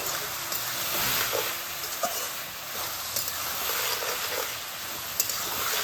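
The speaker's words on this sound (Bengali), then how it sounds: "একটু নাড়িয়ে চাড়িয়ে দিই, চিনিটার ভিতরে মিশিয়ে দিতে হবে" Sugar being stirred into cooked cabbage, potatoes and peas in a pan: a moderate, continuous sizzle broken by light scraping and stirring knocks, heard alone without talk.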